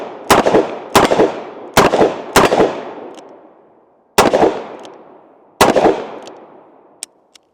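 Six loud, sharp revolver gunshots from a handgun fitted with a Midwest Industries revolver brace, spaced unevenly with ringing decay after each, followed by a faint mechanical click near the end.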